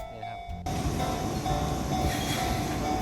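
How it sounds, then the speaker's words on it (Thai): An Enoden (Enoshima Electric Railway) train arrives at Kamakura station with a sudden swell of broadband rumble and rattling that fills the rest of the moment after a quieter start. "อันนี้รถไฟเขาก็มารับคนนะคะ คลาสสิกมากเลย"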